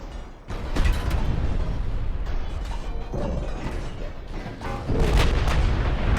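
Warship secondary guns firing in the naval video game Ultimate Admiral Dreadnoughts, a continuous rumble of heavy booming shots and blasts overlapping each other, loud and dense throughout with no talking.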